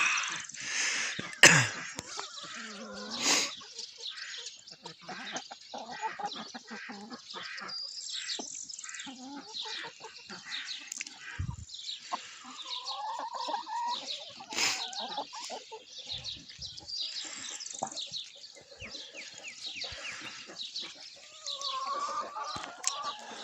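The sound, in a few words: small birds singing in the early morning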